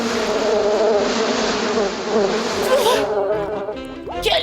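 Cartoon bees buzz in a dense, steady swarm drone that holds close and loud for several seconds, then thins toward the end.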